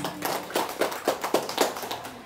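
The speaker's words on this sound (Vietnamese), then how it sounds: "một tràng vỗ tay chúc mừng" A short burst of clapping at a wedding, brisk irregular hand claps from a small crowd, fairly close and steady for a couple of seconds.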